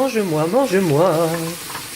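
Paprika escalopes sizzle steadily in a frying pan throughout, close and fairly loud, while a sing-song voice hums a wavering melody over the frying.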